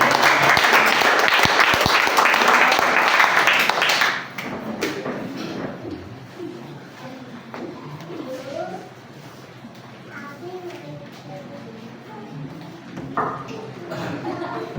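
Church congregation applauding together at a Father's Sunday service, a dense, loud burst of clapping for about four seconds that then fades into quieter room noise with voices speaking.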